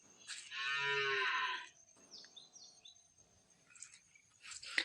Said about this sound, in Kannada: ಇದು ನಮ್ಮ ಮನೆ ಹಸುಗಳು.